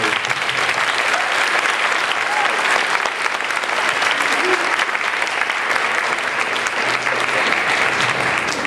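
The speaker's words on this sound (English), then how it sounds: "Let's give one more round of applause to everyone on this stage." Audience applause for performers on stage at an area school choir festival, a dense, even wash of many hands clapping that holds steady and loud throughout, with no breaks.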